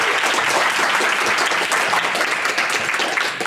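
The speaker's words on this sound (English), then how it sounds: "Please give him a clap as he comes to the stage." A lecture audience applauds steadily as a speaker comes to the stage at a talk on neoliberalism, a dense, continuous wash of many hands clapping at full volume with no voices.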